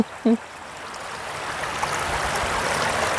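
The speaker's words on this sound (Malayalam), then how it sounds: "അതിലെ കൂടെ ഒഴുകി വരുന്നത് അങ്ങോട്ട് ഒഴുക്കുണ്ട് നല്ല കളകള ശബ്ദം" Water runs and gurgles through a small channel between stones at a family outing spot in the UAE, a steady close babble of flowing water after a brief voice fragment at the start.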